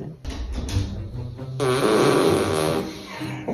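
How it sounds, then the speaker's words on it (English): A long, loud fart rips close to the microphone, starting with a rough sputter and swelling into a sustained, buzzing blast that trails off after a few seconds. "It's not attractive when you fart like that."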